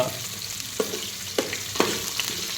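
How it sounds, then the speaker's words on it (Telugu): Green chillies sizzle in hot oil, a soft steady frying hiss broken by three or four sharp stirring scrapes of a ladle, close and without speech. "నూనె వేడైంది. ఇలా పచ్చిమిర్చి వేసిన తర్వాత ఇలా"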